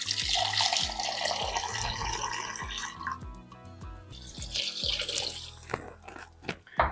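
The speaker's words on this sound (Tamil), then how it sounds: "தேவையான அளவுக்கு தண்ணி ஊற்றிக்கலாம்." Water splashing into a cooking pot of mutton salna, a run of irregular drips and pours with clattering pot sounds, fairly close and unaccompanied by talk.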